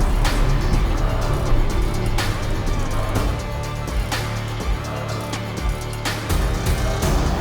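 Off-road vehicle accelerating through the California desert, engine roaring with repeated surges and loud crashing jolts over rough ground, close and continuous.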